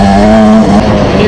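2026 Yamaha YZ125X two-stroke dirt bike engine ridden on rocky trails, loud and close, holding a steady buzzing note that wavers briefly.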